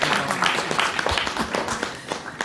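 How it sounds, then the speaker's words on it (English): Audience at a metropolitan council meeting breaks into applause, a dense patter of many hands clapping steadily throughout, with a faint voice underneath. "That's worth of applause right there"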